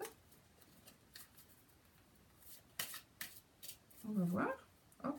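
Tarot cards being shuffled and then cut, a run of soft papery riffles and flicks followed by a slap of cards near the end. A voice speaks quietly underneath.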